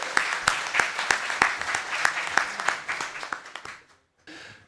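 An audience at a National Assembly seminar on plasma power generation applauds loudly with rhythmic, in-unison clapping that fades out, followed by a brief silence and a short low murmur.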